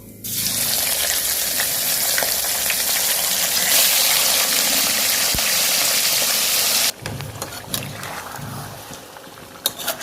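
Marinated chicken pieces dropped into hot oil with whole cumin, dried chilli and bay leaf, giving a loud, steady, close sizzle that cuts off abruptly, followed by quieter scattered crackles and clinks.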